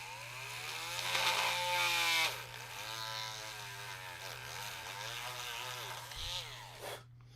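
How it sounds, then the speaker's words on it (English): Power drill driving a large bit through tough material, a whining motor that bogs down and surges in pitch as it labors, fairly quiet and close, ending abruptly. "This bigger drill bit's having a hard day."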